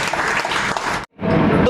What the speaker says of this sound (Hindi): सर एक बार जोरदार तालियां चाहिए